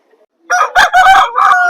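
Native roosters crowing at a rooster market in Vijayawada, a loud, close crow with rising and falling calls filling most of the clip, no talk over it.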